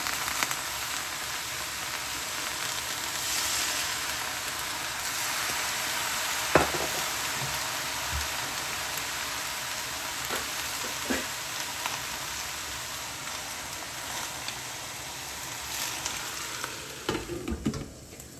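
Egg, broccoli, bok choy and vermicelli stir-fry in a hot pan with a steady loud sizzle and occasional scraping stirs, continuous throughout with no talking.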